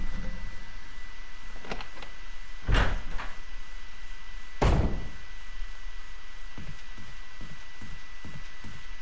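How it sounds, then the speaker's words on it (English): In the Resident Evil Remake mansion, a door bangs open and shut with two loud heavy thuds, surrounded by softer clunks and footsteps against a quiet ambient hum. "I'm going to head through this door."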